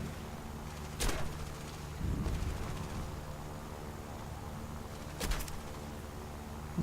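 Enemy gunfire in the War Thunder flight game, with the Yak-7B under attack: heavy booming bursts at wide intervals over a constant low engine-like rumble.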